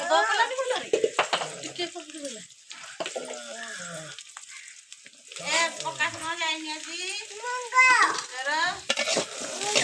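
Cut potatoes fry and are stirred in a pan, with steady sizzling and scraping strokes running throughout, while a voice talks over much of it.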